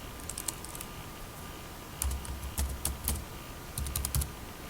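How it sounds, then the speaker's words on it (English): Fingers type a new password on a computer keyboard, giving soft, close key clicks in a few quick clusters over a faint steady room hum. "Enter the new password that you want to set as your new KRA PIN password."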